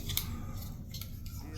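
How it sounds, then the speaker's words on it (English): Scissors snipping a spot off a boot: a few quick, close metallic snips in a short burst over a low background hum. "See, scissors."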